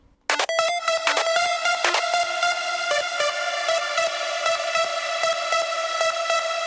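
Low hard techno synth melody variation: a few quick staccato stabs give way to a sustained, buzzy, bright tone pulsing in a steady rhythm, played alone without voices.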